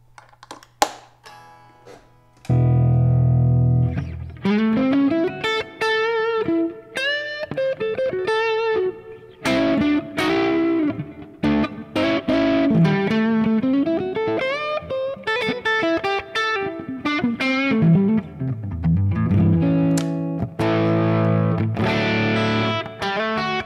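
A 335-model electric guitar played through distortion, heard alone and up close: a short pause, then a loud sustained riff of bends and moving single-note lines with chordal stabs, saturated and continuous for about twenty seconds.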